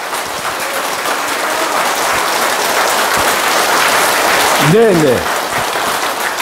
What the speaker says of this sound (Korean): 박수 소리가 좀 작은 것 같습니다.